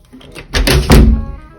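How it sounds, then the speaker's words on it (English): A dorm room door at a University of York college swings shut with a loud, close, heavy thunk, followed by a second solid knock as it settles into the frame. "so you close the door, innit?"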